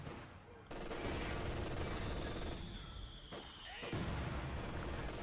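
MG42 machine gun volleys in the video game Company of Heroes 2 come as dense, continuous bursts of gunfire. They are mixed into a loud, steady battlefield din that carries through the whole stretch.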